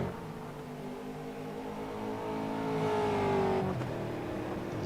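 A race car in a sim racing game accelerates hard with push-to-pass along a back straightaway, its engine droning steadily and rising in pitch and loudness before easing off near the end.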